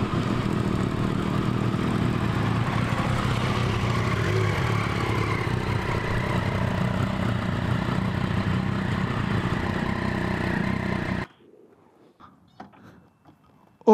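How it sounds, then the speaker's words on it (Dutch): Two English motorcycles ride up to the American Motorcycle Museum, a loud, steady engine rumble with mechanical clatter that cuts off abruptly near the end, leaving near silence with faint knocks. "We komen met twee Engelse motoren aanrijden"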